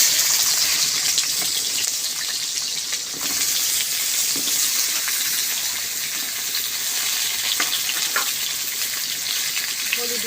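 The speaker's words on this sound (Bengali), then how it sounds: "এবার আমি আলুগুলো ভেজে নেব।" Potatoes frying in hot oil for a light mrigal fish curry make a loud, steady hiss that holds for the whole stretch, with occasional faint stirring clicks close by and no speech.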